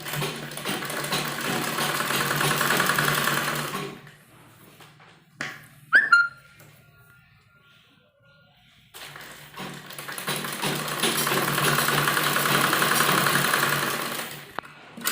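A sewing machine runs in two bursts while stitching a matching salwar strip onto a kurti, steady whirring for about four seconds, a quiet pause with a few small taps, then another sustained run.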